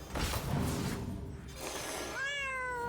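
A plush kitty cat meows in the card game Hearthstone, a bright electronic meow over busy game effects with thumps and whooshes, and a rising tonal chime near the end.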